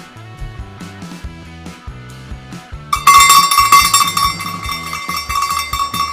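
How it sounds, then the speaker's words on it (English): Honorary cowbell rung for the final lap of a cycling race: rhythmic hand-struck clanks at first, then a loud, rapid and continuous clanging that carries through to the end. "They have an honorary cowbell that the riders that have done it 10 times get."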